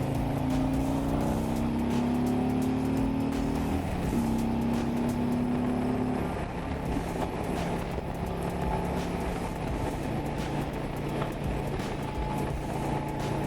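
Steady, loud engine drone and wind rush from a 2024 Harley-Davidson Ultra Limited touring motorcycle cruising on the freeway, holding an even pitch throughout with a slight shift partway through.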